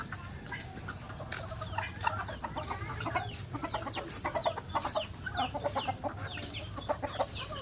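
Chickens cluck steadily and overlap one another in a farmyard during rain. A soft wash of rainfall sits underneath the busy, fairly close clucking, and no voices are heard.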